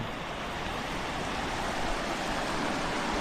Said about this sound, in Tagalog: Ang batis ni Tio Uming.